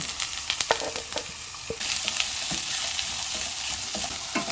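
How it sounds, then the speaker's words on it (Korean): Cucumber stir-fried in oil left over from scrambling eggs sizzles steadily, with close utensil scrapes and taps against the pan, and the frying swells louder partway through. "달걀을 볶고 남은 기름으로 그대로 오이를 볶아주거나 기름을 좀 더 넣습니다."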